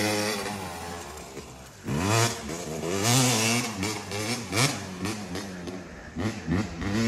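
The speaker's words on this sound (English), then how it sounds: "Alright, Flynn's hitting his lap" Two-stroke dirt bike lapping an abandoned sand track: a loud, raspy engine revving up and down in repeated surges, rising whines and quick throttle blips, heard close and without talk.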